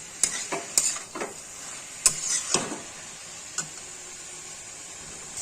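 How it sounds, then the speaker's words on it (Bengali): Boiled cabbage being stirred in a pan before fried katla fish head is added, a few sharp spatula scrapes and taps over a faint sizzle, close by, with a steady high hiss behind and no voices. "খানিক্ষণ ভালো করে নাড়াচাড়া করে তাতে মাছের মাথাটা ছেড়ে"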